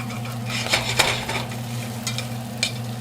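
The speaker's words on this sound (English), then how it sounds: "Mental note, metal spoon is better than a rubber spoon to get that bacon, because sometimes it's going to want to stick. So you can scrape it off nice and easy." A metal spoon scraping and stirring bacon in a pot over medium-high heat while it sizzles, with a steady frying hiss under several short, sharp scrapes and knocks.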